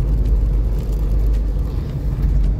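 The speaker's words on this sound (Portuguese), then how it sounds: "Vou parar o carro aqui agora." Car driven slowly through the seaside town centre of New Brighton, New Zealand, heard from inside as a steady low engine and road rumble, loud and continuous with no talking.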